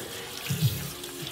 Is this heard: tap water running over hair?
yes